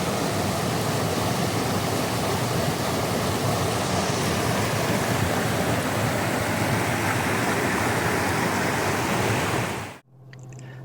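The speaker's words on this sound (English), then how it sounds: "Nice waterfall." A constant roaring rush of falling water, dense and unbroken, close and loud, cutting off abruptly near the end to a quieter background.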